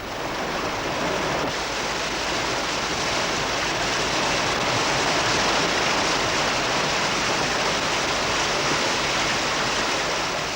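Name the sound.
wild water river rapids during canoe race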